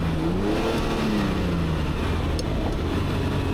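A Ferrari Daytona on carburetors revs as the gas pedal is pressed on a track, the engine note rising and falling in a sustained, loud, close-up sweep with no talk over it.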